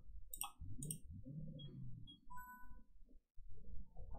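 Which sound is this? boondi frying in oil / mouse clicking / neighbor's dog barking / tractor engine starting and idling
mouse clicking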